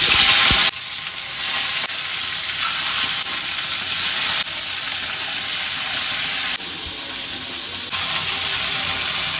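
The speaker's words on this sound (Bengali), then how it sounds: "তেল দিয়ে দিলাম, তেল গরম হয়ে গেছে, মাছ দিয়ে দেই।" Fish sizzles loudly in hot oil in a wok, a dense close frying hiss that holds throughout with slight shifts in level and a few faint clicks.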